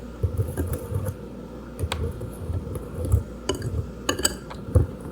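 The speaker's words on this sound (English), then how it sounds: "I'll just add sugar, and then I'll take my whisk here and stir" A whisk stirs pancake batter with added sugar in a bowl, making light, irregular clinks and scrapes against the bowl at close range, with no voices.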